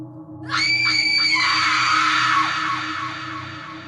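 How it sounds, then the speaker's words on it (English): A loud, desperate scream rises sharply and holds, wavering and straining before trailing off, alone with no voices or other sounds. "I heard the scream again. It was louder this time and more desperate."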